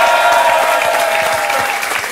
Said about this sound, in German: Noch einmal Applaus für Desperados und Shih Tzu